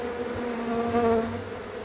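Honey bees buzz steadily at a hive colony, a close, continuous droning hum that swells slightly midway without any talk.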